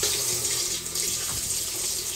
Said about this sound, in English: I'm just gonna go ahead and give them a quick rinse off